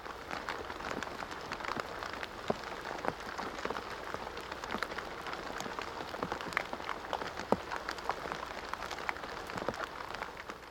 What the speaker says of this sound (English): from the drumming of the rain